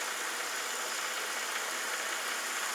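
A Mercedes engine idling, heard as a steady, even broadband hum and hiss with no clear rhythm, held at a constant level throughout.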